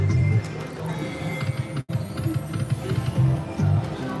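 Horse neighs and clip-clopping hoofbeats play from a jackpot slot machine game during a bonus, loud and continuous with a brief cut-out midway.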